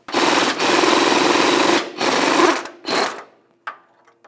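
Ratcheting 15mm socket spinning nuts off the oil pan of a 1998-2011 Ford Ranger 3.0L V6, a loud rapid buzzing rattle in three long bursts, then a short final click.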